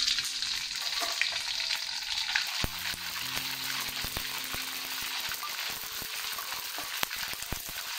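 Pork rinds deep-fry in hot oil with a dense, steady sizzle and crackle that holds at an even loudness throughout, with a few sharp pops and low utensil knocks partway through.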